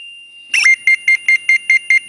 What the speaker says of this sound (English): The beeping tone indicates my clamp's low frequency is operational.